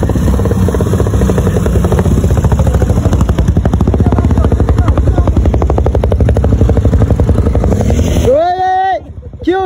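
A loud, close motorcycle engine idles with a rapid, rattling clatter, then cuts off abruptly near the end as a voice begins speaking.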